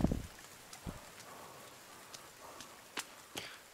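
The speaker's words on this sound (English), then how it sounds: "it's raining" Rain in a survival video game, a faint soft patter with scattered sharper drop-like ticks and a brief bump at the start, no clear talk over it.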